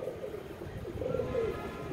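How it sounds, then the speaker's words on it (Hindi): Pigeons coo softly in a short burst of low, rolling calls, close by and continuous against faint background noise. "ये तो देखे ना नए कबूतर हैं"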